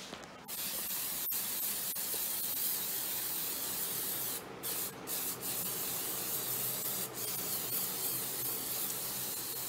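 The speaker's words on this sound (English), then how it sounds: "This is the glue we bought at my wife's fabric shop she buys stuff at. It just sprays like that." Fabric spray adhesive hissing from an aerosol can during a Toyota Sequoia door panel repair, a loud close continuous spray with a few brief pauses.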